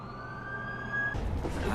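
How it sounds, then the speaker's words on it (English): An ambulance siren in the video game The Amazing Spider-Man 2: a short wailing tone holds steady, then cuts off into a burst of broader street noise, fairly faint and with no talking. "That's the ambulance I called."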